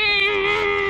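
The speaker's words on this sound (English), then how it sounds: "She's meowing." One long, steady, drawn-out cat meow outdoors in snow, close and clear, holding an even pitch for nearly a second.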